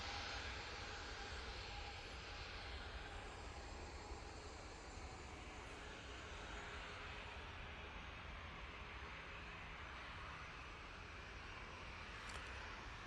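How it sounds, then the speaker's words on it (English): A Ryanair airliner at Manchester Airport, departing for Nantes, gives a steady, broad engine roar that holds at an even level for the whole stretch, with no voices. "Ryanair coming on in front of us."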